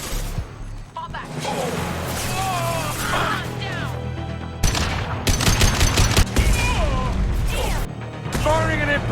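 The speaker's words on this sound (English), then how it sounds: "Firing an impact shot." Gunfire crackles through a firefight in the video game Mass Effect 2, with repeated bursts and sharp shots under overlapping voices and combat effects, loud throughout.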